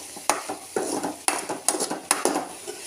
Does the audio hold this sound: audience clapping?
no